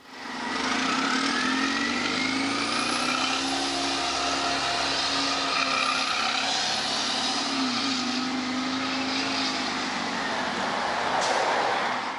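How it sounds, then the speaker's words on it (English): A 2002-04 DaimlerChrysler Orion 07.501 CNG transit bus engine runs loud and close, a steady droning roar with whining tones that rise and fall as it pulls and shifts, no voices over it. "While the Orion 7 CNGs at Gleason are loud,"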